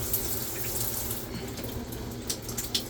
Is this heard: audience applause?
no